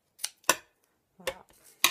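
Scissors snip through paper in a few short, separate cuts with pauses between them, close and fairly quiet, while a December Daily scrapbook structure is assembled and folded.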